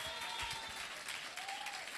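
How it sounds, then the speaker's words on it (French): Church congregation applauding and cheering for Jesus during a worship service, dense steady clapping filling the whole moment with a few faint whoops and voices rising over it. "Est-ce qu'on peut acclamer Jésus?"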